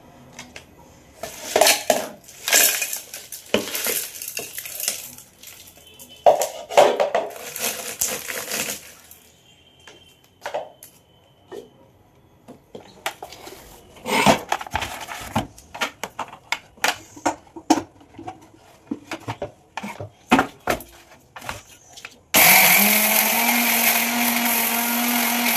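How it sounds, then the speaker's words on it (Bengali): Eggshells are crushed in a kitchen grinder: scattered clattering and scraping knocks come first, then the motor starts near the end with a loud, steady, close-up whirring grind. "ডিমের খোলাগুলো পেস্ট করব"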